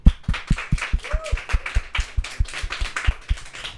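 A quick, steady run of sharp claps from an audience on a Spanish-language Catholic talk program, keeping an even, rhythmic beat throughout without talk.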